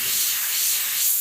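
An airbrush sprays paint in a steady, loud, close hiss that holds evenly without pause, with no voices over it.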